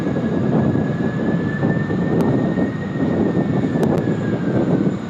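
Jet airliner on Qantas flight 60 arriving from Tokyo Haneda at Sydney Airport, a steady loud roar with a faint high whine holding across the whole stretch, no voices.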